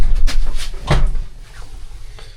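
Cab door of a Zetor Proxima tractor being pulled shut, a few close knocks and a solid thump near the middle, followed by quieter rattles inside the cab.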